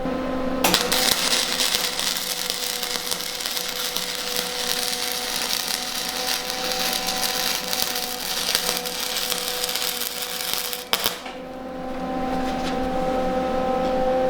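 A welder lays a bead at home, a loud continuous crackling buzz with spattering that runs steadily for about ten seconds, then cuts off briefly before resuming.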